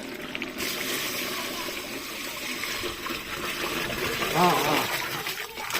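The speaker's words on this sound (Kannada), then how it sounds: "ನೀರು," Water is poured into a pot of mutton saaru over a wood-fired stove, a steady gushing flow under nearby talk, with a brief clink toward the end.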